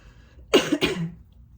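A single short cough, close and fairly loud, in two quick bursts from someone who smokes a lot of weed, with a quiet room behind it.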